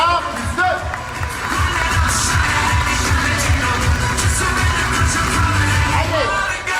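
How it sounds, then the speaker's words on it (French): A large audience at a Forever Living Products company event claps and cheers for members who qualified for the Chairman's Bonus, a dense, steady roar of applause with whoops filling the whole stretch, with voices mixed into the crowd noise. "On applaudit encore une fois très fort les qualifiés au Chairman's Bonus niveau 1 plus 2."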